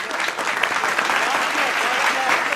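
Steady audience applause before a poem recital on a patriotic television stage program, a dense, even roll of clapping from a large crowd lasting the whole stretch.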